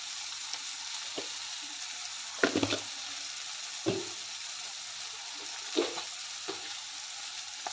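Drumstick curry masala with onion-garlic spice mix is being mixed in a pan under a constant low sizzle, with occasional spatula scrapes and knocks spaced a few seconds apart.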